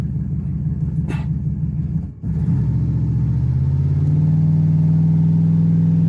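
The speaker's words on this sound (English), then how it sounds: "Here's an example of a single turbo 97 Explorer." Single-turbo 1997 Ford Explorer launching under boost: a steady low engine rumble dips briefly, then swells into a loud, rising drone as it pulls hard, with no talk.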